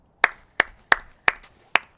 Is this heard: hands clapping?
yes